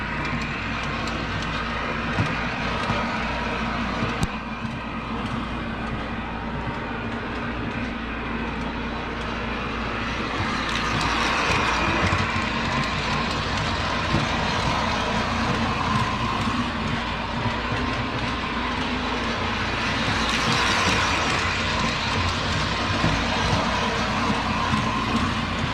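An MTH Rail King Doodlebug model train powers down with a steady mechanical hum and rumble that runs on throughout, swelling slightly twice, with faint clicks over it.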